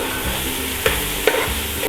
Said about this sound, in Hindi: जो चॉप किए हुए मेरे प्याज हैं वो इसमें डाल दिए मैंने। और आपने जो है तेज़ आंच में इनको गोल्डन करना है।